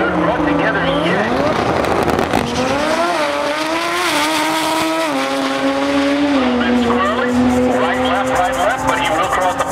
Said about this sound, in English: There goes a pair of Team Puerto Rico cars.